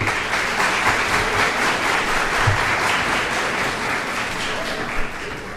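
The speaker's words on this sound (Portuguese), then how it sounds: "doutor Wilton Soares Mesquita dos Santos, ao qual todos recebem os aplausos de todos os senhores e senhoras" An audience applauds at a solemn civic session honouring a new citizen, with sustained, even clapping from a large crowd that fills the room at steady loudness throughout.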